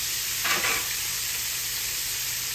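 Chicken pieces frying in oil in an old-school chicken-fried dish, a steady hissing sizzle with one brief louder crackle near the start, close, no talking.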